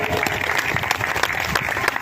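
Crowd applause at a village gathering in India, a short dense patter of many hands clapping steadily, fairly loud and close.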